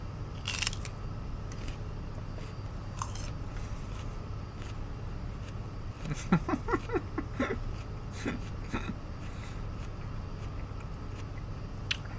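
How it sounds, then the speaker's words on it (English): Someone crunching on celery at close range, a cluster of crisp, faint bites in the middle over a steady background hum, with a few other clicks around it. "just me crunching on this celery"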